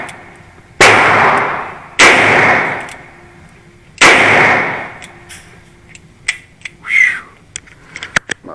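A Smith & Wesson Model 28-2 Highway Patrolman revolver firing .38 Special rounds: three sharp, loud shots about two seconds apart, followed by fainter clicks and handling noises and brief talk.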